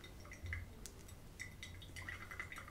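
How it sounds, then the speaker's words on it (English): Water poured from a kettle into a Hario V60 coffee dripper over a bed of coffee grounds, heard as a faint, soft trickle and drip with light splashes. "And I do next pour."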